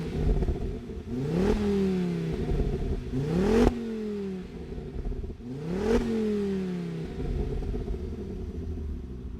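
A 2009 Ford Focus RS Mark II engine revs three times in sharp blips, each rising quickly and falling away, against a steady idle rumble with no talking.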